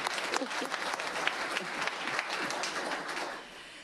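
A room of people applauds at a Rockford Public Schools board meeting, a continuous crackle of many hands clapping at moderate distance and fairly soft, easing off slightly near the end.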